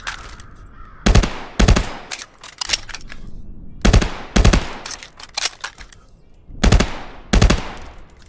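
Gunfire in the VR shooter Contractors, fired with a rifle stock accessory: sharp, loud shots in quick pairs and singles with short gaps between them, close and crisp, with no talk.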